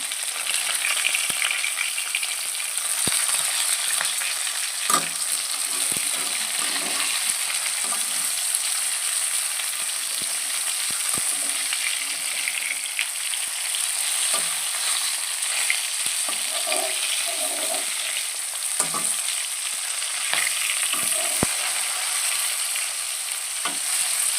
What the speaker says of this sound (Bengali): মাছটা এত তেল হয়েছে যে পটপট করে খাচ্ছে